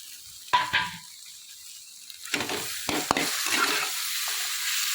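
Onion, tomato and green chili go into a hot pan together and sizzle as they are stirred, with a few sharp utensil scrapes and clinks over a steady frying hiss.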